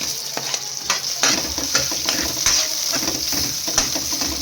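Ginger and onion frying in a pan crackle loudly and close by, with rhythmic spatula scrapes and stirring strokes over a constant sizzle.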